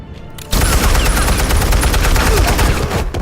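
Gunfire erupts in Batman: The Telltale Series, a sudden loud burst that becomes a dense, continuous volley of rapid shots for about three seconds, harsh and close, cutting off abruptly near the end.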